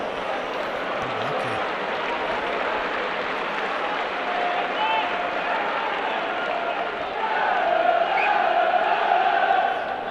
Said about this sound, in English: Fair play to the Bradford Bulls fans who are sticking around to the end to applaud their team off